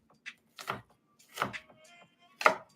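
A knife chops onion on a cutting board for pico de gallo, giving four sharp, separate knocks spaced irregularly, close and clear with no voices.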